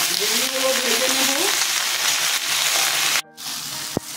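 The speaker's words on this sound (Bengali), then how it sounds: "ভেন্ডিগুলো ভেজে নেব।" Okra, sprinkled with a little salt and turmeric, fries in a pan with a steady, close sizzle. A voice is heard briefly early on, and a short pause and a utensil click come near the end.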